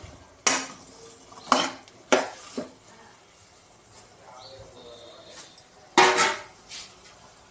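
Chickpeas are stirred in a cooking pot with a metal spoon, giving a few loud, separate clanks and scrapes against the pot, with quiet pauses between them.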